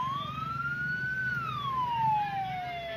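A fire engine siren wails in one long rising and falling sweep, moderately loud and steady over a low traffic rumble in Indonesia, with no voices.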